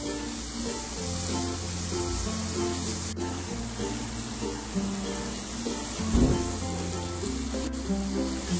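Coriander, dried shrimp, bay leaves and bruised lemongrass sautéing in a pan over low heat, a steady soft sizzle with occasional stirring clatter, beneath background music and no speech.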